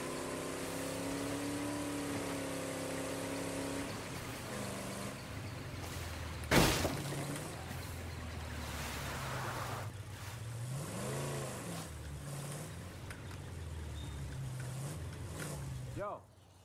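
A car from the video game State of Decay 2 drives along with a steady engine hum that rises and falls as it revs, punctuated by a sharp bump, with a voice speaking over part of it.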